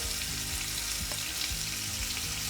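Onions and green chillies fry for bagara rice, a dense, steady sizzle filling the pan, loud and close with faint stirring scrapes.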